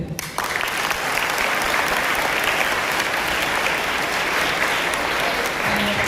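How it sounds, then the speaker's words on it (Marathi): A large seated audience claps steadily and loudly, a dense sustained wash of applause at a public talk on cancer diagnosis and treatment, lasting throughout with no voices standing out. "त्यामुळे ऑर्गनायझर्ससाठी आणि तुमच्यासाठी आधी टाळ्या होऊ देत"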